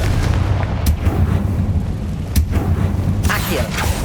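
Confringo blasting spell going off in Hogwarts Legacy on PS5, a booming burst with sharp cracks over a dense, continuous rumble of in-game action.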